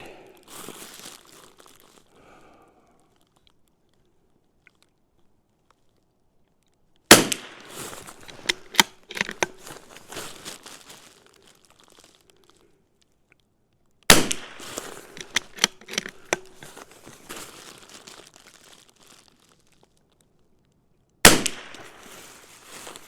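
Rifle shots from a CZ 457, four sharp loud cracks spaced several seconds apart, each followed by a short burst of clatter and handling noise, with near silence between.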